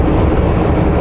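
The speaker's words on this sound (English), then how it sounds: "Oh, there's a train over there." Steady, loud rumble of a train rolling by nearby, dense low-frequency roar with faint rail clatter throughout.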